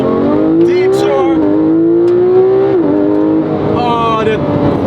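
A Porsche 911 GT3 RS engine screams up to 9,000 RPM, its loud, close harmonic howl rising, dropping sharply at a gear change and climbing again, with a voice speaking over the engine noise.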